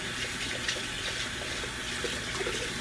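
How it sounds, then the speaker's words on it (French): Tap water runs steadily into a bathroom sink while someone rinses their mouth, a constant close splashing flow with no talk. "Puis après ça, je me rince la bouche avec de l'eau."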